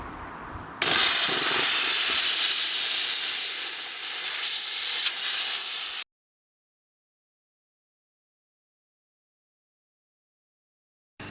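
Steam cleaner nozzle blasting red mites off a poultry perch: a loud, steady hiss of jetting steam runs for about five seconds, then cuts off abruptly into silence.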